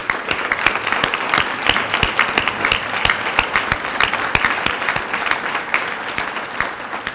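Dense, sustained applause from an audience at a distinguished alumni awards dinner, many hands clapping steadily and loudly throughout, with a full crowd wash and no break.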